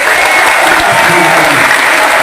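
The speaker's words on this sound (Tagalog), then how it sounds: "bigyan niyo po kami ng senyales ng isang malakas na palakpak" Loud, dense applause from a crowd at a mayoral speech, a steady wash of clapping hands that continues evenly throughout without pause.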